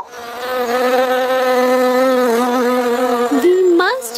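Honeybees in a kindergarten school play, rendered as a sustained buzzing drone that holds steady for about four seconds and bends in pitch near the end, loud and close with no talk over it.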